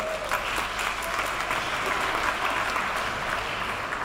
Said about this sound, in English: will you please give a warm round of applause to everyone that's been on our stage today?